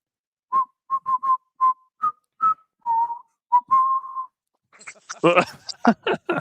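A person whistles a short, clear melody of about a dozen separate notes, some held longer, then louder noisy bursts take over near the end.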